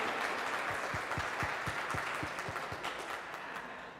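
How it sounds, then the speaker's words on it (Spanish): An audience at a national forum applauds, a full wash of clapping with a rhythmic cluster of lower claps in the middle, tapering slightly toward the end. "Un aplauso fuerte, por favor"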